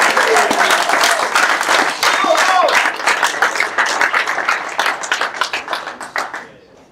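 Strong audience applause and clapping at a live auction event welcoming a sponsor, a dense, close burst that thins into scattered claps and fades out near the end.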